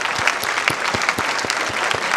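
An audience at a talk on stopping global warming claps steadily, a dense, even patter of many hands with no voices over it.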